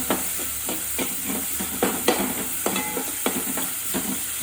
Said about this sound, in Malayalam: കാന്താരി ഒന്ന് വഴറ്റി വരുമ്പോഴത്തേക്കും